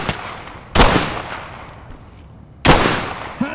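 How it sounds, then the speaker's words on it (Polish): Gunfire in the tactical shooter game Ready or Not: two loud, sharp shots about two seconds apart, each with a short decaying tail, with a faint click before the second and a brief mechanical rattle at the end. "Z magazynu strzelam"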